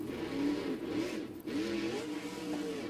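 A monster truck engine in a BeamNG arena event revs in repeated rising and falling surges, steady and moderately close, with no voices over it.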